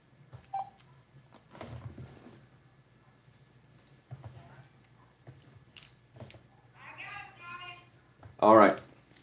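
Telephone keypad dialing tones from a phone call being placed: a short beep early on, then a run of quick tones near the end, with faint voices and room noise in between.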